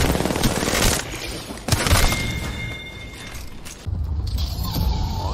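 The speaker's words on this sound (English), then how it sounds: "you just gotta land those couple of wingman shots" Rapid heavy pistol fire from the Wingman in the Apex Legends video game, loud cracking shots with sharp bursts in the mix of a chaotic in-game firefight.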